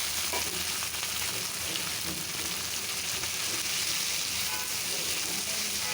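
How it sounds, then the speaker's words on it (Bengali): Onion, garlic and dried red chilies fry in hot oil for tempering cooked spinach, a steady dense sizzle and crackle filling the whole stretch at close range with no voices. "এটা পেঁয়াজটা ভাজা হয়ে গেছে, পেঁয়াজ রসুন আর শুকনো মরিচ দিয়ে"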